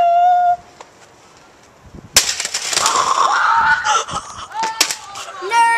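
An Xbox console is smashed in one sudden sharp crash after a quiet moment, followed by rattling, scattering debris and excited shouting voices.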